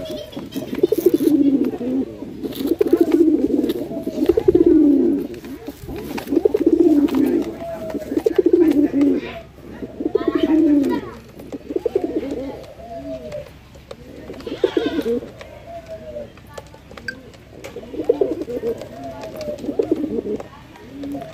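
A pair of desi Bombai pigeons in breeding mood coo repeatedly in rhythmic, close, throaty bursts, with someone speaking over parts of the calls.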